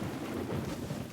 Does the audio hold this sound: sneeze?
no